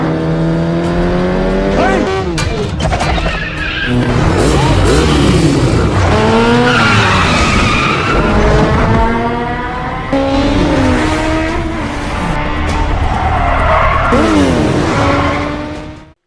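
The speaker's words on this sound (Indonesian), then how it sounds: "aksi Num dalam berkendara diketahui polisi. Sontak Kong pun yang sedang di TKP segera mengejar Num" In an action film's motorbike chase, loud engines rev and whine in rising and falling tones while tires squeal and skid almost continuously.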